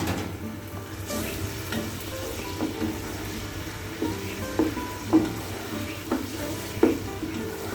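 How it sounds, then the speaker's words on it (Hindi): Onions with garlic-ginger paste sizzle steadily in a hot pan while a spoon scrapes and stirs now and then, producing occasional louder clicks and knocks against the pan. "मैं उसके अंदर जो लहसुन अदरक का पेस्ट था वो शामिल करके उसकी अच्छी तरह भुनाई कर लूँ"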